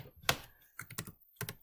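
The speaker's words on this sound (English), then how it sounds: "So I'm just going to type it in here." A handful of computer keyboard keystrokes land in small clusters over under two seconds, crisp and close, quiet and alone with no voices.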